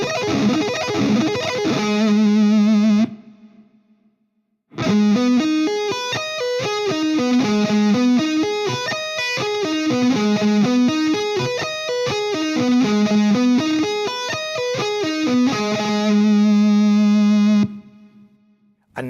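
A distorted electric guitar plays fast sweep-picked arpeggios with effects, loud and continuous, with a short pause near the start and a sustained chord at the end.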